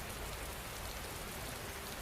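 Steady, dense rain pours down on a surface with an even, unbroken hiss, close and constant throughout, with no thunder or voices.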